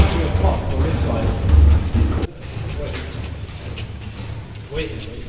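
A train rumbles through a tunnel in Rotterdam, a deep rolling roar that drops suddenly partway through and then continues more softly, with a voice talking nearby.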